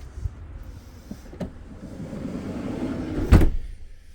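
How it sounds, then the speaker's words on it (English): A door on a Citroen Relay L4 campervan slides and shuts, ending in a loud, close thud after a rising rumble and a few lighter knocks. "let me close this door"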